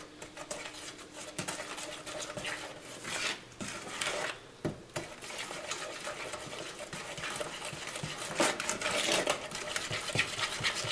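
Chicken noodle soup stirred in a pot with a utensil, giving steady scraping and sloshing that runs continuously with brief pauses, fairly close and moderately loud, with no talking.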